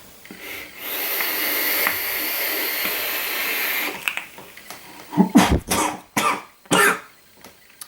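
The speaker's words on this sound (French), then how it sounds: "J'ai toussé." Several harsh coughs in short bursts follow a long steady hiss, close and loud, with brief pauses between them.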